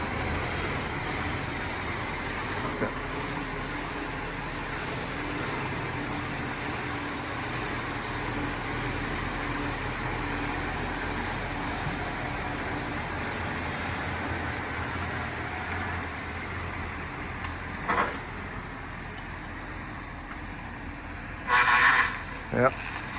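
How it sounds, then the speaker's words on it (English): A 1978 Lincoln Continental with a leaking power steering system runs with a steady engine hum and a continuous whine from the steering pump, with a few brief clunks near the end. "we do have a power steering leak, and that is the noise you're hearing there"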